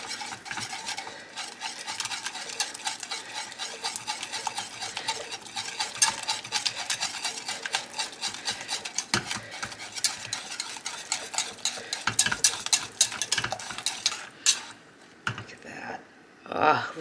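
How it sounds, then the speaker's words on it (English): Parmesan cheese whisked into Alfredo sauce in a pan, a continuous rapid rhythmic whisking scrape against metal, fairly quiet and close, briefly interrupted near the end. "we're just going to whisk all this in until it's nice and smooth"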